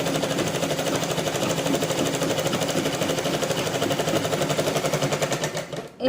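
An electric sewing machine runs steadily, stitching along the very edge of a blouse piece in a fast, even mechanical rattle that stops abruptly at the end.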